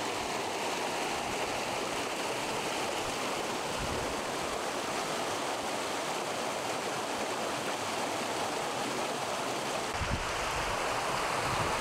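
A small waterfall and river in Kosciuszko National Park, a steady close rush of flowing water that holds an even level throughout, with no voices.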